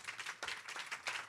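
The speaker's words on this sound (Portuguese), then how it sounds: "Palmas aos participantes." Applause for the participants at a logistics and port solutions forum panel in Rio de Janeiro, a short burst of hand clapping from a seated audience that swells and dips, moderately loud and steady with no talking.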